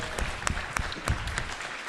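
An audience at an urban awards ceremony in Charleston applauds a new restaurant: a short burst of dense clapping from many hands.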